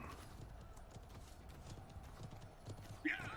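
In the video game Conqueror's Blade, a horse's hooves clip-clop steadily under faint background noise, then a short whinny rings out near the end.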